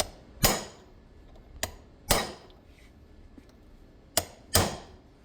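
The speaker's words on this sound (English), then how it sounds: "I'll see if I can tap that down a little bit at a time" Sharp metallic taps ring out in an uneven series, some single and some close pairs, each struck cleanly with short silences between, as a hammer taps dents out of a metal speedometer cover.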